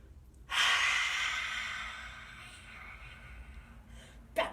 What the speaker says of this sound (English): Inhale, and then exhale, stick the tongue out, be outrageous.